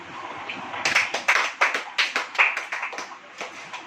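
A congregation claps along during a Hindi church sermon, a burst of quick, uneven hand claps rising and falling in waves, moderately loud and close, with no speech over it.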